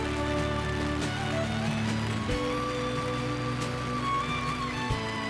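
Heavy raindrops patter steadily on a DIY kei truck camper during a downpour on the night before a typhoon, heard from inside as a dense, continuous wash over a low hum, with no voices.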